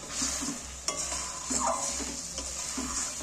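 Ghee is stirred into semolina halwa in a pan, with a soft continuous sizzle and a few distinct scrapes and clinks of a spoon against metal, close and fairly quiet, with no voices.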